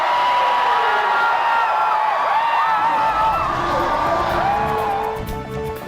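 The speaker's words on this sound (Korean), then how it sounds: "모습을 본 팬들은 환호했다" Baseball crowd of Lotte Giants fans at a rain-delayed game, cheering and whooping from a distance under a loud narrating voice, the roar holding steady before fading near the end.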